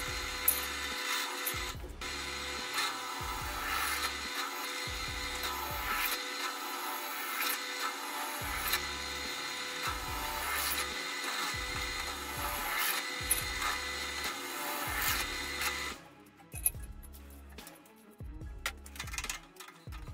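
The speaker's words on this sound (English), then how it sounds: "Then I drill a lot of holes so that air can get through them and reach the heatsink." Repeated grinding bursts of a drill boring into wood, about one per second, steady for a long stretch before turning quieter and more scattered.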